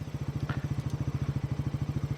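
Bajaj Pulsar NS400 motorcycle engine running while riding, a close, rapid, even pulsing throb with a steady rhythmic beat throughout.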